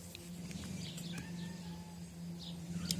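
A small cat meows to call its kittens, giving a few soft cries over a low steady hum and faint background noise.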